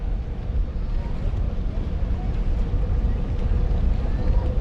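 Racing boats sprint across Lake Tholocco, an 800-foot run at speeds into the mid-90s, making a steady, loud, dense engine roar with wind buffeting that continues without a break.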